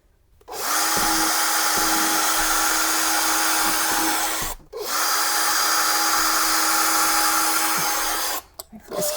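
A power drill pre-drills holes for mounting a motorized kitchen blind, two long steady high whines of several seconds each with a brief stop between, loud and close, ending with a short burst.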